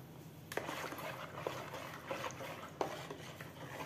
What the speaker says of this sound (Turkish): karıştıracağım şimdi tekrardan karışımımı